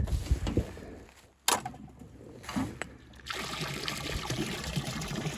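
Water trickles and pours steadily into a float-valve stock tank on a ranch in winter, with a broad hissing flow that grows fuller toward the end, punctuated by a few sharp knocks.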